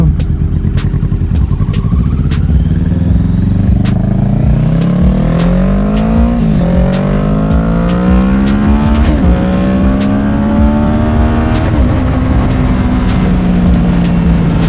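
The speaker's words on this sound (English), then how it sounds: "This bike just sounds so good with that Two Brothers exhaust." A 2020 Kawasaki Ninja 650 motorcycle with a Two Brothers aftermarket exhaust revs up and down repeatedly, its deep exhaust note rising and falling in long sweeps, with no voices.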